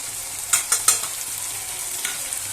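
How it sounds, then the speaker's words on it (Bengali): Chicken mince and chickpea ghugni with ginger, garlic and green chilli being sautéed in a pan, giving a steady low sizzle with a few brief spatula scrapes and stirring clinks near the start. "সব কিছু দিয়ে এটাকে ভালো করে কষিয়ে নেব"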